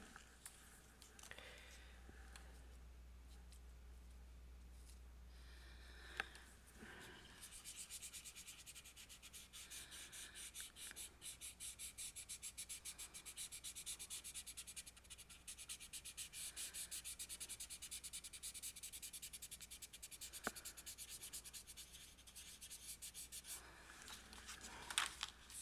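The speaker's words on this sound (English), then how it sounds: "get out and sand this down a little bit so I don't get green in my road" A painted surface is sanded down with steady rubbing, scratchy strokes close by that continue for most of the span after a low hum at the start.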